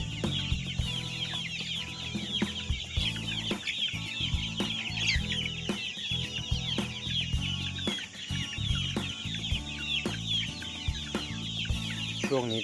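Several chickens at a chick and quail breeding farm cluck steadily and overlap at moderate distance, a busy barnyard chatter that continues throughout with no talking.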